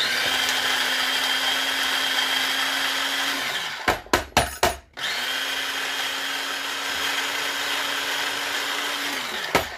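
A food processor blending lentil pancake batter whirs loudly and steadily, stops for a few short pulses, then resumes its continuous motor drone until near the end.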